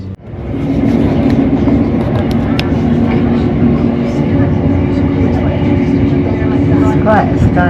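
A train rumbles at Clapham Junction station, a loud, continuous low roar of rolling carriages with faint squeals and rattles, steady throughout after a sudden start.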